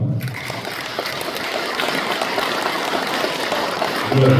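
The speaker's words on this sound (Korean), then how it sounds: "우리 정부 대통령 박수 한번 쳐주시기 바랍니다" A crowd at an 80th Liberation Day commemoration event claps in a loud, continuous wash of applause that holds steady for several seconds.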